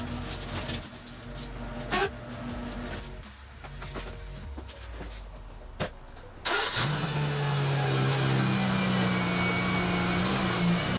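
A Mazda RX8 race car is started and driven to warm up. The engine starts after some muffled handling sounds, then drones and hums steadily at moderate loudness, with pitch rising and shifting as the car pulls away.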